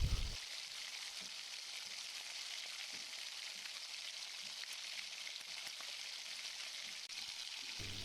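Tomato and eggs frying in oil in a pan, a steady, even sizzle with a soft crackle that holds constant throughout, fairly quiet and close, with no voices.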